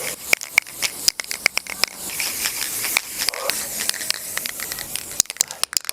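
An aerosol spray can hisses onto foam at a wedding prank, bursts of spraying hiss in quick uneven spurts, loud and close, with scattered crackling.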